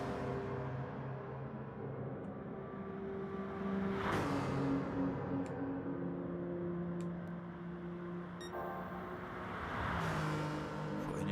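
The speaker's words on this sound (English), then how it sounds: "Sliding these BMWs through here then." BMW saloon race cars in a racing video game on the Tokyo South Outer Loop, engines droning steadily with rising revs and whooshing passes, a few sharp clicks and shifts, loud and continuous throughout.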